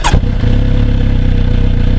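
A Kawasaki Z900RS motorcycle cranks and fires up, settling straight into a loud, even idle burble close by.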